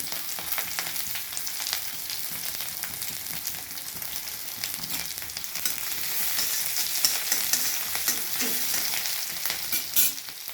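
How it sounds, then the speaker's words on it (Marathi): Vegetables frying in a little oil in a wok for noodles, a bright steady sizzle and crackle that runs through the whole clip and grows slightly louder toward the end, with stirring and no talking. "थोडं भाज्या फ्राय करू."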